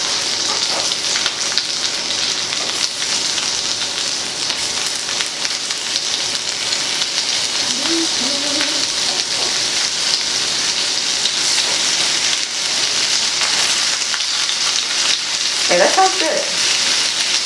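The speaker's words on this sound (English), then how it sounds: "This pan smells pretty good, nice and hot. Go ahead and put our shrimp in." Peeled, deveined tail-on shrimp sear in a hot pan with a steady, loud sizzle throughout, while a voice speaks briefly over the frying.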